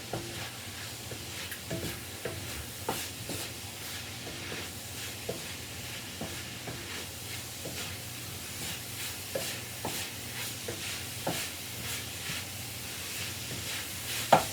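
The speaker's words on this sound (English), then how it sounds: "we're going to get those spices mixed up in here" Spiced taco soup stirred in a pot with translucent onions, a spoon scraping and clicking against the sides in steady irregular strokes over a soft continuous sizzle, close and moderately quiet with no talking.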